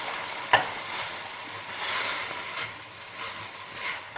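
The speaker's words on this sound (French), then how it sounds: "Ça fricote. On remue. On saisit tout ça." Radish greens fry in a pan as they are stirred, giving a soft, steady sizzle with gentle scraping swells and one sharp clack of a utensil near the start.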